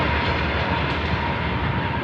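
Short train rumbling past at close range, a loud, steady roar of wheels on rails with a faint clattering texture throughout, no voices.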